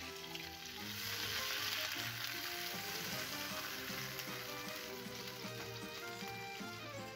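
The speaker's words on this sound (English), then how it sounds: "We will allow the milk to boil with our garlic." Milk bubbles and sizzles steadily in a pot with garlic and margarine, a close, continuous crackling simmer with no talking.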